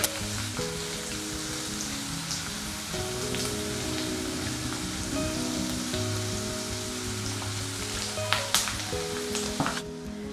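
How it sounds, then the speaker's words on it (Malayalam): Garlic cloves and a small piece of ginger fry in hot oil with popped mustard seeds for a tomato pickle. A steady, close sizzle runs throughout, with a few brief clinks near the end. "കടുക് പൊട്ടിക്കഴിയുമ്പോൾ നമുക്കിതിലേക്ക് ഒരു പന്ത്രണ്ട് അല്ലി വെളുത്തുള്ളി ചേർത്ത് കൊടുക്കാം അതോടൊപ്പം തന്നെ ഒരു ചെറിയ കഷ്ണം ഇഞ്ചി"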